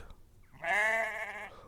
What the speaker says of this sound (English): a flock of sheep are crossing the line